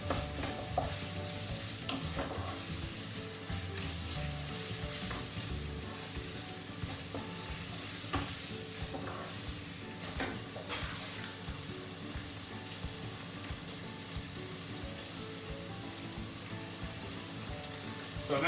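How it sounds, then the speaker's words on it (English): Tomato puree for a bolognese fries and sizzles in a pan, with steady crackling and occasional stirring scrapes running continuously up close, with no talking. "So I'm going to almost fry that puree off."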